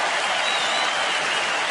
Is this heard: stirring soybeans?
no